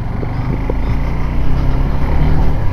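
A Suzuki Gixxer SF 250cc motorcycle engine runs close by with a steady, loud low rumble that rises slightly toward the end.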